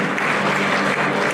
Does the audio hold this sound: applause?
yes